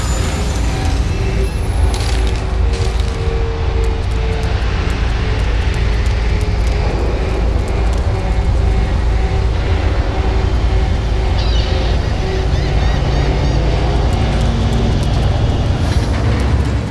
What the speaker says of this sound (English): They got a helicopter on the other side of the bridge.